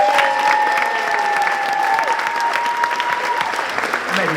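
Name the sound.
applause for senior superlatives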